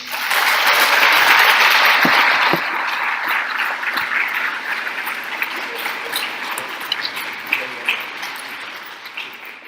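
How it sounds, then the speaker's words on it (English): Audience applause for a debate team, a dense wash of many hands clapping that is loudest over the first couple of seconds, then eases into steadier, slightly thinner clapping with scattered sharper claps to the end. "Okay, we're going to give Team Morals one big round of applause."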